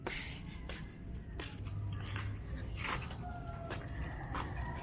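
Dogs whimper and yip in short, high bursts, some close and some farther off, scattered over a low rumble.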